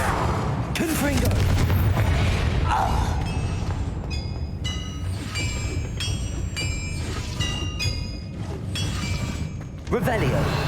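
Confringo blasting spell explosions in the game Hogwarts Legacy, heard as loud booming bursts and crackling impacts over rumbling game sound, with ringing magical tones between hits and a voice speaking.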